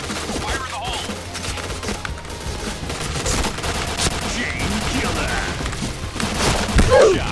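Shotgun blasts from the game Point Blank ring out in rapid succession alongside other gunfire, dense and loud throughout, with a voice speaking over the shooting.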